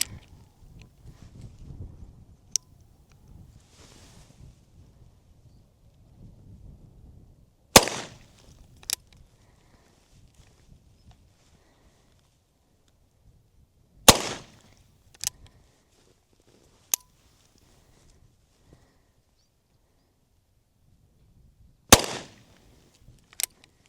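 An 1847 Colt Walker black powder revolver fires four loud, sharp shots outdoors at about 30 yards, widely spaced with quiet stretches between them, and a few lighter clicks and handling sounds in between.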